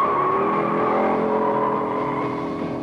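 A 1971 Dodge Challenger 340 V8 pulling hard off the line with a Hurst shifter, a loud close engine roar climbing steadily in pitch and then easing slightly as it continues.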